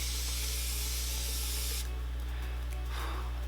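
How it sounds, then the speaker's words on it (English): Morphe Continuous Setting Mist sprays onto a face in a steady, close, airy hiss that runs for a couple of seconds, then cuts off into quiet room tone with faint rustling; no one speaks. "I'm going to be setting my face using the Morphe Continuous Setting Mist"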